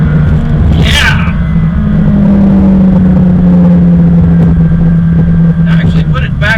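A 2018 McLaren 570S sports car engine drones steadily while driving, rising in pitch as it pulls, loud and close inside the cabin, with brief voices and exclamations over it.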